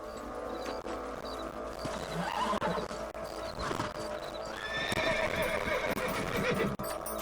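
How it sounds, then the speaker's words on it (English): Horses whinny over steady clip-clopping hooves in Red Dead Redemption, played on the RPCS3 PS3 emulator, with a busy game-like background mix and a shrill neigh rising near the end. "Let's get back on the horses and see what else is going on."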